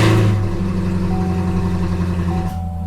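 A 2017 Chevrolet Camaro SS 1LE with a Corsa exhaust fires up with a loud burst, then settles into a deep, steady burbling idle, close by with no talk.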